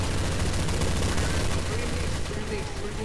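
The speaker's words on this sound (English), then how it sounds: "Now, we have to shoot now. Shoot with everything." Dense, continuous gunfire from a Counter-Strike: Source zombie escape round on the ze_bathroom map, with loud overlapping shots and no pause for the full stretch.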